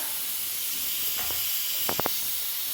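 Onions frying in hot oil in a small pot for mutton biryani, a soft steady hiss with a few brief clinks near the end, faint and with no talking.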